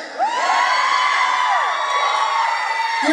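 A live concert crowd cheers, with loud sustained whooping and high-pitched screaming across the whole stretch and no talking over it.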